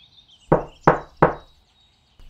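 Three firm knocks on a door land in an even, quick rhythm, close and dry, followed by quiet.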